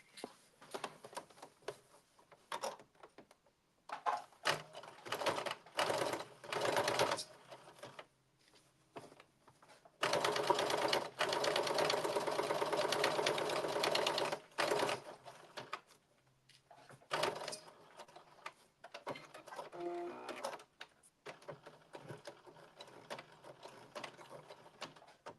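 A sewing machine stitches a seam on a blazer, with quiet close-up whirring runs in stops and starts, including one sustained stretch of several seconds, amid faint handling and mechanism clicks.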